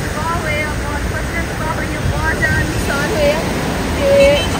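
Floodwaters rushing and churning with waves give a steady, broad roar that fills the whole clip, swelling slightly near the end, with no clear voices over it.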